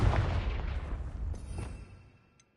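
The Confringo blasting spell in Hogwarts Legacy lands as a single heavy, booming blast. It rumbles loudly at first, then fades away over about two seconds.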